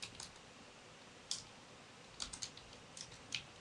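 Python code typed on a computer keyboard: a few soft, close key clicks in scattered short bursts, quiet and irregular, with silence between them.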